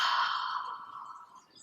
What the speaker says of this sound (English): And a double exhale.